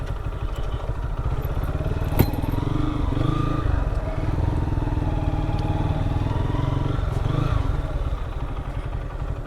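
Several motorbikes of a group of eight riders idle and rumble steadily near a jetty ghat, with a constant close engine drone and a brief sharp clack partway through.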